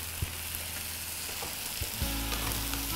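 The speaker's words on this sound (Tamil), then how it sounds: "கத்திரிக்காய் கொஞ்சம் வதங்கினதுக்கப்புறமா மஷ்ரூம் சேர்த்துக்கணும், இது வதங்கட்டும்." Eggplant sautés in a pan for mushroom pilau rice, an even hiss of frying oil with a few sharp taps and stirring knocks, then a louder burst of sizzling in the final second.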